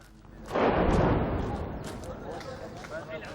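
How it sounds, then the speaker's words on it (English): Heavy guns firing near the Gaza front line during a ceasefire in 2014, a loud booming blast that rolls out and decays slowly into a distant rumble. "We tried to use that time to get nearer the front line, but the guns continued firing."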